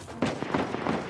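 Sniper fire in the Uncharted 4 video game, a rapid string of sharp shots and impacts cracking out over a noisy background, fairly loud and close.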